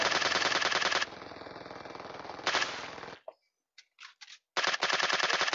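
Rapid automatic gunfire from PUBG Mobile zombie mode, loud bursts of rattling shots, a pause with a few scattered sounds, then another burst resuming.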